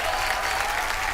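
Studio audience applause on a Hindi comedy stage show, a short, even wash of many hands clapping at moderate volume, continuous and without any voices over it.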